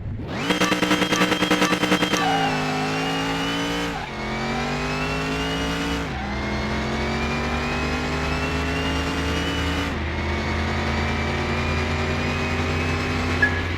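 A special V6 engine in Car Mechanic Simulator 2021 revs loud and close, rising in pitch through several gears with sharp drops at each shift, a gritty rattle at the start and no talking.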